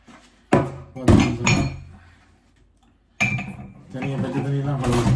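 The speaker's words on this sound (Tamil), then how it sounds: "முதல் வந்து இதெல்லாம் கழுவி வச்சுட்டு கப்பலெல்லாம் கழுவி வைக்கணும்" Dishes and cups are washed by hand, with loud bursts of clattering crockery and clinking close by, separated by a brief quiet pause.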